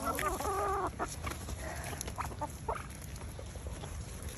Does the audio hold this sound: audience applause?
no